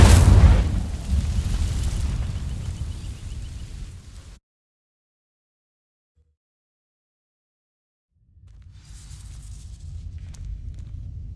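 Fiery blast of the Incendio spell igniting dry vines in Hogwarts Legacy, a loud rumbling whoosh that fades over four seconds, then silence before a softer crackling burn returns.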